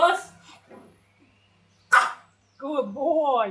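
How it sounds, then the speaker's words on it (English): A guard dog aboard an aluminum expedition catamaran barks on command, one sharp close bark amid a person speaking loudly, then a longer whining, yipping vocal run. "for the first line of defense, we have a super guard dog."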